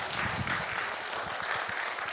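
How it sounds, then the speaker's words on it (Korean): Applause from a church New Year thanksgiving service congregation, a dense, steady patter of many hands that stays even throughout, moderately distant and without talk over it. "박수."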